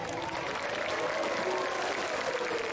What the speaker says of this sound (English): Everyone, please give a big round of applause